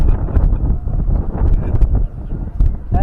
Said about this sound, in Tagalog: Uy, hangin.